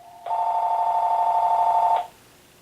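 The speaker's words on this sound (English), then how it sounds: "that's the phone" A telephone rings once as a single steady electronic tone lasting nearly two seconds, loud and close, then stops and leaves a quiet room.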